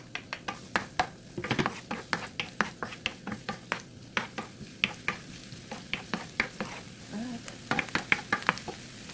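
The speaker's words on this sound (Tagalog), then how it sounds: "Mainit ang ating oil at ilalagay na natin ang ating bawang at sibuyas" Garlic and onion sautéing in hot olive oil, with a quiet sizzle under a steady run of quick spatula taps and scrapes against the pan.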